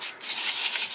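Abrasive strokes rasp across a wood-turned piece as it is sanded with 80-grit paper and mineral oil. The close, scratchy rubbing continues with brief dips near the start and end.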